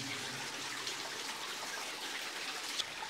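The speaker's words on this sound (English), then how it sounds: "Just wanted to comment this water flow coming down the pile here." Water trickling and dribbling down a rock pile inside an abandoned gypsum mine in Hillsborough, a soft steady patter with faint drip accents, fairly quiet and continuous throughout with no talk.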